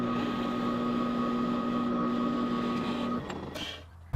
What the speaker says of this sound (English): Then I'll use a Forstner bit to create some starter holes in the control cavities